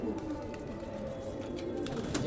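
Pigeons coo softly in a steady low murmur, several birds at a moderate distance, with a faint constant background and occasional light flutters.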